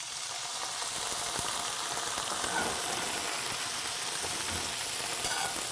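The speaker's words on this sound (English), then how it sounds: "it's going to sizzle and sort of deglaze the pan a little bit" Brussels sprouts sizzle steadily in a hot pan as a couple of tablespoons of liquid deglaze it, a bright, even crackling hiss that carries on throughout with no voices.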